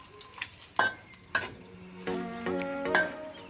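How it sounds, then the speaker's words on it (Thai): Marinated pork is dry-roasted in a small pan with the gas turned off, giving soft sizzling and stirring scrapes with a few sharp clinks of utensil on pan, fairly close and with no talk. "ทีนี้เราก็จะปิดแก๊สนะคะแล้วมาคั่วให้มันแห้งนะคะ"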